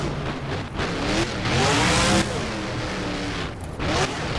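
A monster truck engine in BeamNG with a broken rear wheel revs hard at a Monster Jam freestyle in the Sun Bowl, a loud, continuous roar that rises and falls as the throttle swells.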